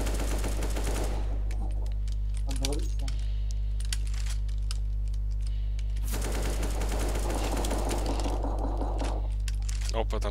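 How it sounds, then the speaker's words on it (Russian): In a video game, rapid bursts of gunfire crackle against a constant low hum, with voices talking in between the volleys. "Опа, там какие-то стрельба."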